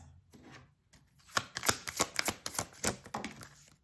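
Quick run of crisp riffling snaps as tarot advice cards are shuffled close by, a few soft handling sounds first, then a dense burst of rapid flicks tapering off.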